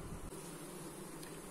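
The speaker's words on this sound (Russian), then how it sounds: "И таким способом мы заставляем пчел летать за медом." Honeybees buzz steadily around an open beehive after honey extraction, a dense continuous drone of many insects close by.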